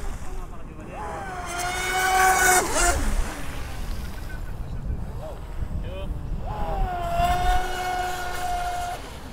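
A large 37-inch RC monoboat motor whines and revs in rising and falling bursts, loud and close, with people talking between the runs.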